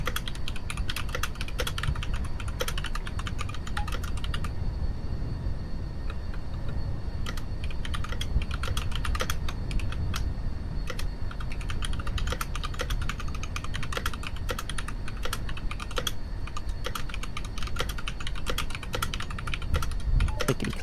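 Loud mechanical computer keyboard with deliberately noisy switches, typed on steadily for about twenty seconds as a dense, close clatter of keystrokes with no talk over it.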